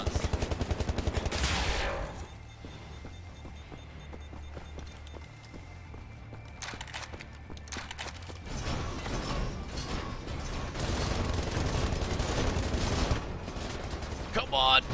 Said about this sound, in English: I guess maybe I should be using the scatterfire for shrapnel rounds